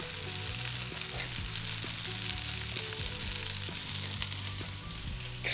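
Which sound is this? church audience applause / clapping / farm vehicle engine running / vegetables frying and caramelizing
vegetables frying and caramelizing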